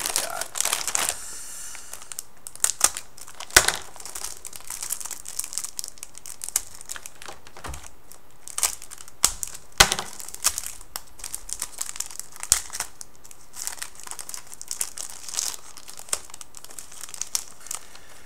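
Foil sticker sheets and rub-on decal sheets from a Master Grade 1/100 GN-X Gunpla model kit are handled up close, giving a steady run of crisp plastic crinkling and rustling with sharper snaps throughout, no talking.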